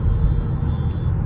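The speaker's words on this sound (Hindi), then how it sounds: "सेकंड गियर पे आप थोड़ा ज्यादा रेव कर सकते हो।" A Honda Elevate's engine drones at raised revs in second gear, a steady low rumble with road noise heard from inside the car, brief and continuous.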